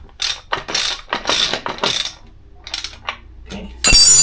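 Ratchet clicking in quick bursts while undoing upper wishbone bolts on an Alfa Romeo 156, close and crisp, with pauses between strokes and a loud metallic clatter at the end.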